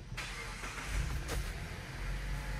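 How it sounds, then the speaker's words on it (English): A Mazda CX-9 engine starts up and keeps running in a steady, moderately loud low rumble, briefly swelling as it catches, with no voices over it. "Now we can start the vehicle."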